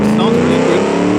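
A 1950s-60s tourer car driving in the video game BeamNG, its engine holding a loud, steady droning note close up, with a voice speaking over it.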